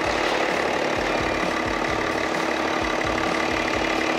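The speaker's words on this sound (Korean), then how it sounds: "엔진 소리 일정하고 좋습니다" BMW 7 Series G11 730Ld xDrive diesel engine idling with the hood open, a loud, close, steady rumble with a regular low pulsing knock and no talk.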